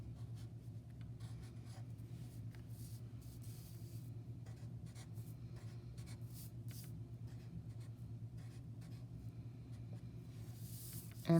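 Pencil drawing a folk-art fox on paper, some strokes made upside down, gives a steady, close scratchy rub that runs continuously and quietly throughout.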